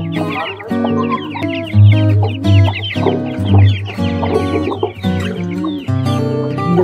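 Aseel chicks clucking and chirping up close while one is held, a busy overlapping chorus of peeps and short calls.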